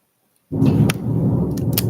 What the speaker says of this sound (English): That thunder just scared me.